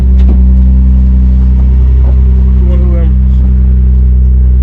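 A Nissan Skyline R33 GTR engine runs loud and close with a couple of short rev blips over a heavy steady drone, while people talk over it.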